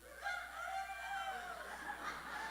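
An audience in a church plenary session in Santa Catarina, Brazil, voices a group imitation of a rooster crowing: several overlapping, drawn-out crowing calls from many people at once, sustained through the clip with no other sound.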